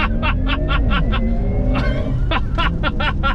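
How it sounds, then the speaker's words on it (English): A Porsche Taycan 4S pulls a full-throttle launch-control start, its electric drive whine rising steadily in pitch up close, with a rhythmic pulsing tone over it and excited voices chattering throughout. "launch control activated, and now full step."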